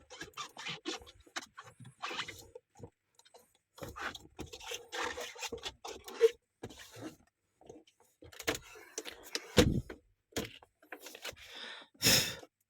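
A cloth wipes down a car at a car wash in Qatar, making intermittent soft, close rubbing and squeaking strokes in short bursts separated by quiet pauses.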